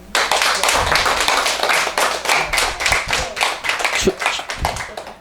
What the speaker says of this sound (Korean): 박수 크게 한번 쳐보세요